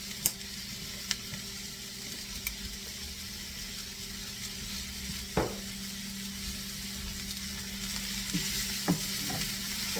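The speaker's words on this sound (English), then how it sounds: "Now you're going to add 1/4 of a teaspoon of smoked paprika and stir that in." Smoked paprika being stirred into a sizzling cabbage and chopped meat paella: an even, close sizzle with a few faint spoon knocks and scrapes in the pan, and no voices.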